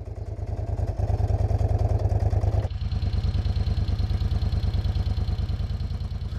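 Classic Moto Guzzi V-twin motorcycle engine running close by, a steady loud pulsing thump with mechanical clatter and a brief rise in revs near the start.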